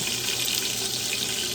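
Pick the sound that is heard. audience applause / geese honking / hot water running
hot water running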